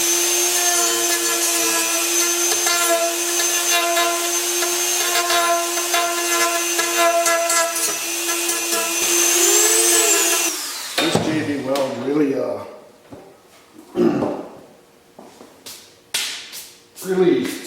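Sandpaper rubbing on a Philco model 64 radio cabinet under restoration, a steady close scraping hiss for about ten seconds that breaks into short uneven strokes and pauses.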